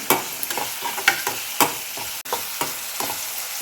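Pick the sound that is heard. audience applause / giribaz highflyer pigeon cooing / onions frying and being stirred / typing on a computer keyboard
onions frying and being stirred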